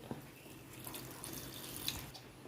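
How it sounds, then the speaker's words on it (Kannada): Water runs from a tap or is poured into a jar for grinding fish curry masala, a soft continuous trickle and splash with a brief knock near the start, heard alone and fairly quiet. "ಈಗ ಇದಕ್ಕೆ ಕಡಿಯಲಿಕ್ಕೆ ನೀರು ಹಾಕಿಕೊಳ್ಳಿ"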